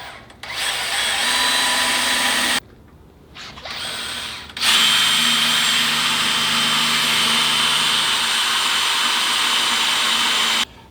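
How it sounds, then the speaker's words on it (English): A power drill boring a hole through an aluminum fender liner tab on a Toyota 4Runner, a steady whine running in a few bursts, with one short pause then a long continuous run, close and loud. "Now that I drilled this hole and I have that hole, I know they're lined up."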